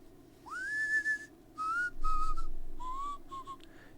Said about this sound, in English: the sort of tongue kind of pulls down and it's sort of like a slide whistle